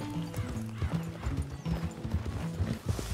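Hooves clip-clop in an uneven trotting rhythm in the video game GTA, mid-distance, with a horse whinnying and faint background voices mixed in.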